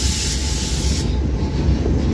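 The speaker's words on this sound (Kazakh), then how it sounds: "Мынау біздің сүйікті тепловозымыз" A TEP33A diesel locomotive runs with a loud, steady mechanical rumble and broad hiss, heard close with no voices.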